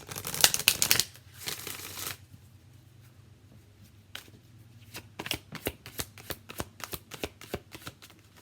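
An oracle card deck, the Enchanted Map Oracle, is shuffled up close. A dense riffle of papery flutter comes first, then a quiet pause, then a string of separate sharp card snaps and slaps.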